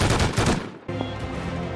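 Gunfire in the survival game Rust: a dense burst of shots in the first stretch, a brief break, then a continuing rumble of more distant firing with no voices.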